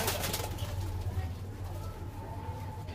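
Pigeons in a loft of Kaldum-type birds give low, steady cooing throughout, with the odd flutter of wings, while a person talks nearby over the birds.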